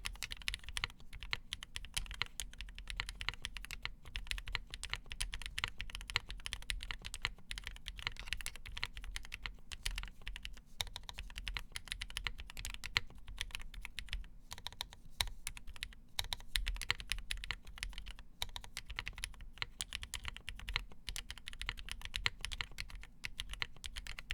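Typing on a Glacier80 keyboard fitted with Graphite Gold switches, a dense, continuous stream of soft, muted keystrokes close up, fast and even for the whole stretch, with no voices.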